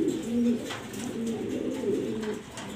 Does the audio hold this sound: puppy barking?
no